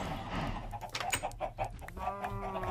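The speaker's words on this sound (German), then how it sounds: "Dämliche Hühner." Chickens cluck repeatedly in Minecraft Tekkit, a steady run of short fowl calls at moderate loudness over a continuous game background, with no talk.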